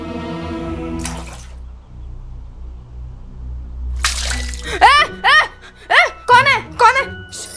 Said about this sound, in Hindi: आई पानी डाल के क्यों उठाया?